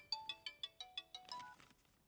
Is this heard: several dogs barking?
no